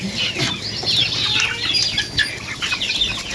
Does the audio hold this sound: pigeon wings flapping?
yes